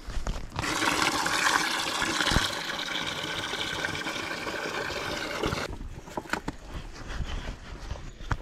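A bucket of muddy water is tipped out and rushes down a drain for several seconds, a loud steady gush that cuts off abruptly, followed by faint drips and trickles.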